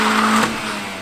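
A modified car from the Max Power era does a burnout, a loud, close, continuous broadband roar of engine and tyre noise with a steady low drone, swelling briefly near the middle before easing off.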